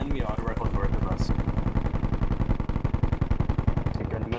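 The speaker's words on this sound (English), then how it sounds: "That's an enemy auto rifle north of us." An enemy automatic rifle firing in the military game Bellum, a long rapid stream of evenly spaced shots, loud and continuous, with faint voices underneath.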